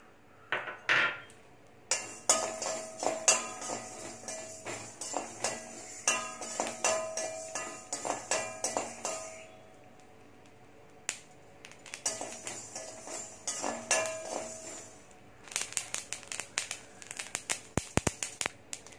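Fenugreek seeds being dry-roasted in a pan for mango pickle, with repeated clinks and scrapes of a utensil against the pan in bursts, near and fairly loud, with no talking.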